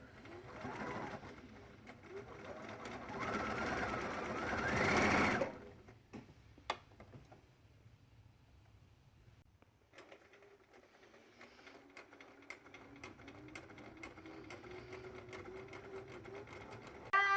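A sewing machine stitches a fabric Christmas tree stuffy, a loud close whirring run for several seconds, then quieter ticking and clicks before a softer, steadier mechanical hum resumes.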